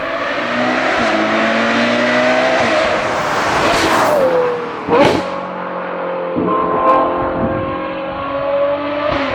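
A Ferrari 812 GTS with a Novitec exhaust set to its quiet mode idles and revs close by, a loud, deep engine note that rises and falls through several throttle blips.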